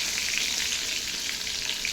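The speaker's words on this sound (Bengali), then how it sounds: "এখন এই বেগুনগুলোকে ভাজবো এই কড়াইটার মধ্যে" Eggplant pieces fry in oil in a kadai, a dense, even, bright hiss of sizzling that holds steady throughout, near and fairly loud with no voices.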